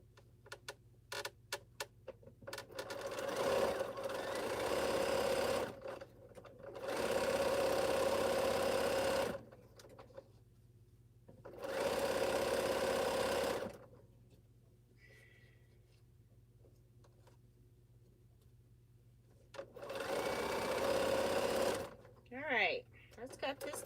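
A sewing machine stitches quilt strips in repeated bursts of steady rapid whirring, each a few seconds long with pauses between, close and clear against a low background hum.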